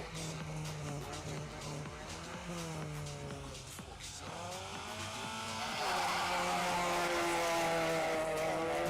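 Two Volkswagen Polo rally cars, one grey and one blue, launch side by side onto an Asia Pacific rally stage, engines revving and climbing through the gears, rising louder toward the end over a faint background voice.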